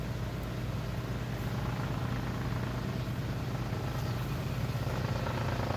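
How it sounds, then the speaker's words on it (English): A helicopter passing overhead outdoors, heard as a steady low rumbling drone that holds at an even level throughout, with no voices over it. "our helicopter's back"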